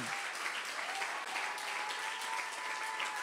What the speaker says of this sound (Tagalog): Palakpakan po natin ang ating Panginoon.